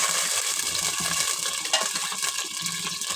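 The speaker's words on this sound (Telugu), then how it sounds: "త్రీ గ్లాస్ వాటర్ పోస్తున్నాను కుక్కర్లో ప్రిపేర్ చేస్తున్నాం" Water pours into a pressure cooker of rice with tempered dried red chillies and curry leaves, a steady, close splashing hiss that lasts throughout, and no one speaks.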